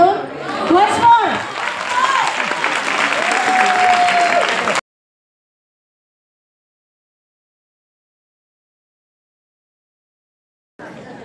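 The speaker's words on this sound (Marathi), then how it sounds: "विनंती आहे तुम्हाला सगळ्यांचे टाळ्या वाजवून once more" Audience applause at a Mangala Gaur competition, a dense, steady clapping crowd for about five seconds with a voice briefly over the start, then silence and a short return at the end.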